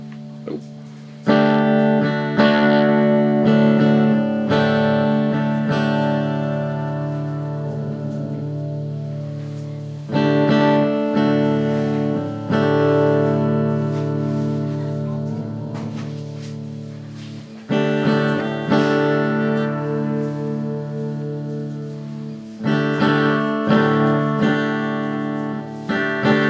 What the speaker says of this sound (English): You can hear that delay actually break up.